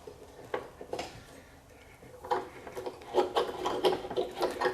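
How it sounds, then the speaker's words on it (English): Front axle of a Honda VTX 1300R motorcycle being turned and pulled out of the fork and wheel hub, a close metallic scraping and rubbing that grows louder and more rhythmic toward the end. "what I hope to do is just turn it and pull it out, just like that"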